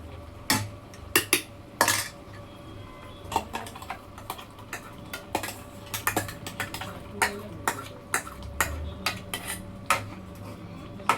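Ground masala is added to a pan on high flame and stirred, giving sharp, irregular metallic clinks and scrapes of a spoon against the pan, close and isolated, over a soft background hiss.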